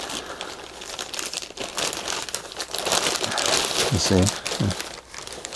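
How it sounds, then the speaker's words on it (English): Ziploc plastic baggies crinkle and rustle close by, a continuous crackling handling sound with a few louder crunches near the end, while a voice speaks briefly over it. "High quality Ziploc baggies."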